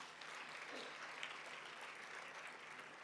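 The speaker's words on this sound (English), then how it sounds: "Can we clap hands for ourselves?" Audience clapping steadily for itself at a colloquium on thirty years of South Africa's democracy, a dense, even wash of applause from a fairly distant crowd lasting throughout, with no talk over it.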